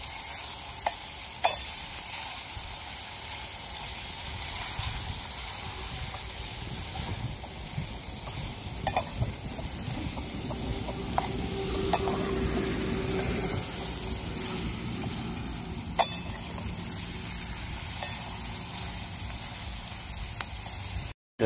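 Dried bombil fish (Bombay duck) frying in a pan in an Indian village kitchen, a steady close sizzle with repeated scraping stirs and clinks running throughout, no voices.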